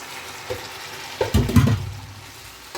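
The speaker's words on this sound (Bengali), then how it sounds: "মশলা কষানো হয়ে গেছে এখন হচ্ছে কলিজাগুলো দিয়ে দিব" Chicken or goat liver hits a pan of cooked-down spices for singara filling, giving a soft sizzle, a couple of light stirring knocks, then a louder burst of frying that settles into a steady hiss.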